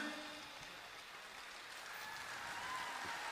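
Audience applauding at an Uzbek pop concert, a steady, soft patter of clapping from a crowd that swells slightly toward the end.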